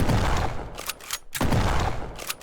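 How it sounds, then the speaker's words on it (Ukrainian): Gunfire in the game Ancient Warfare 3: two loud bursts of rapid shots close together, each lasting about a second, separated by a brief gap, with no talk. "ми в принципі вбиваємо всіх за один постріл"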